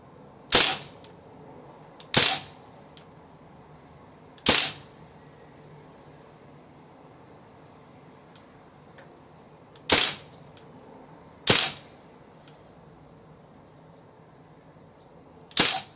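An Umarex Legends MP40 4.5mm CO2 BB gun fires six single sharp cracks, spaced unevenly a couple of seconds apart, with a quiet background between shots and no talk.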